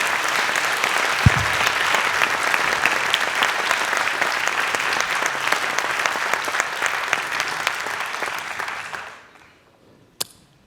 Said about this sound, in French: Tonnerre d'applaudissements, s'il vous plaît.